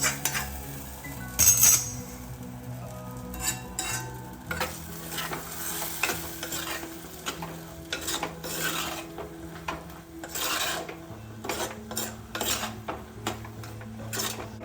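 A spoon scrapes and stirs coconut mushroom fry in a hot iron kadai, giving repeated close scraping strokes over a gentle sizzle, with occasional metallic clinks and no voices.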